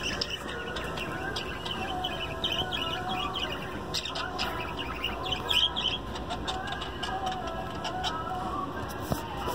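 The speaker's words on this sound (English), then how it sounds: "These are really good birds. Hi, who's a good budgie?" Pet budgies chirp and tweet continuously in a busy, overlapping chorus of close, bright calls, with occasional wing flutters and no clear talking.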